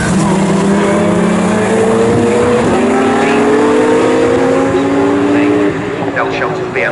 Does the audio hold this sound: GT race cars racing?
yes